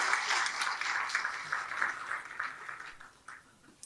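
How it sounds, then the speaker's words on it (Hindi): Applause from the audience at a Hindi kavi sammelan poetry event, a faint, steady patter of many hands clapping that gradually thins and fades out. "एक बार जोरदार तालियां बजा दीजिए"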